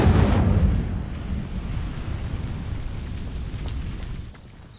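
In Hogwarts Legacy, the Incendio fire spell ignites dry vines with a loud whooshing burst at the start. It settles into a steady crackling roar that cuts off near the end.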